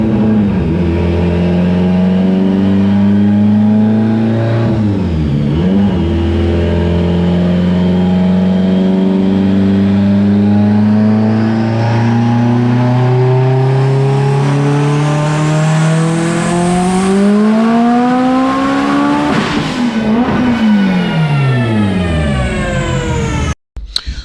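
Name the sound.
Mitsubishi Evo X engine running on a dyno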